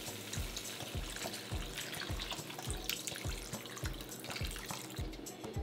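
Two cups of water pour into a cooking pot of jambalaya with chicken, shrimp and sausage, a faint steady gurgling stream with regular rhythmic glugs, close and without talk.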